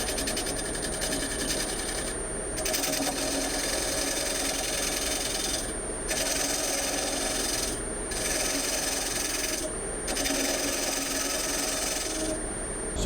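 A gouge scrapes the bottom of a wooden bowl spinning on a wood lathe, giving a steady buzzing rasp broken by several short pauses as the tool lifts off, fairly close, with no talking.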